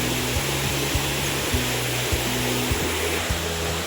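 The clear Himalayan mountain stream Park Khola near Yuksam rushes steadily, a dense, even roar of flowing water with faint low thumps beneath and no voices.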